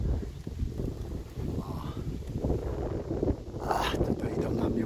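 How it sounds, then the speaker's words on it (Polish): Low, blustery wind buffeting a microphone, rumbling steadily throughout with a brief brighter burst near the end; a voice talks underneath. "Wiatr, mam nadzieję, że mnie nie zagłusza."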